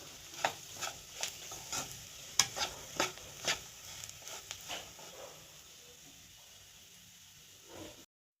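Semolina (rava) stirred in a hot pan for vegetable upma, a series of soft scraping strokes in quick rhythm over a low sizzle, fading to a quiet hiss after about five seconds.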